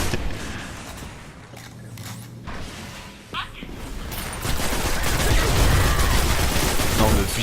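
Rifle fire crackles in a Destiny match, a dense run of shots that grows louder and more continuous toward the end, with a muffled voice in the background.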